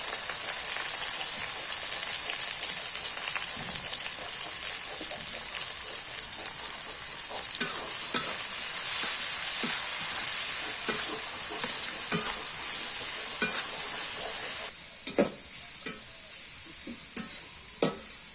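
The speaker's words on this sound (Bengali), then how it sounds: "হালকা করে এটা গরম করে নিই, তারপরে দিয়ে দিই পেঁয়াজ কুচি।" Chopped onions fry in hot oil on a clay stove, a steady close sizzling hiss with intermittent spatters and stirring knocks, no voices.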